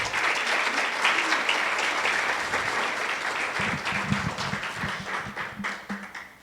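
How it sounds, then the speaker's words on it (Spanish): Church congregation at a Christian sermon bursts into loud, sustained applause, a thick roar of many clapping hands that thins slightly toward the end with a few distinct claps standing out. "Démosle un fuerte aplauso al Señor."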